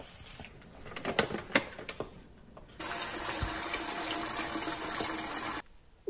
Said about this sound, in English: Wash that. Since it's just a small amount of rice, it's pretty easy to wash.